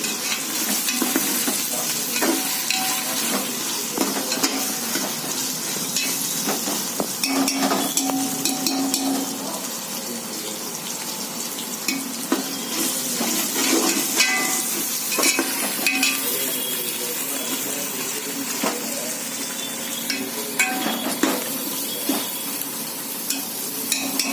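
Ginger and garlic sauté in a hot pan for a vegetable biryani-style rice dish, a loud continuous sizzle broken by repeated scraping stirs of a spoon against the pan, with no talking.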